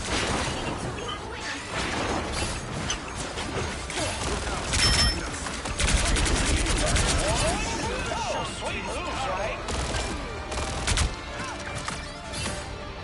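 Star-Lord's gun firing a barrage in a video game, rapid bursts of shots and crashing impacts clustered in stretches while someone talks over them.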